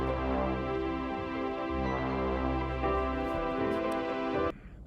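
Sustained tonal synth bass with a pad underneath, moving back and forth between left and right stereo positions, holding steady for several seconds before cutting off abruptly near the end.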